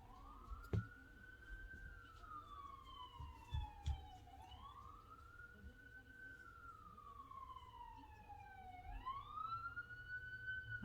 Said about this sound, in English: I don't know why we always have ambulances go by when I'm doing a video